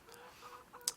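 A rooster clucks softly in Farming Simulator 15, a brief faint farmyard call with a sharper peep near the end of the one-second moment, and no talking.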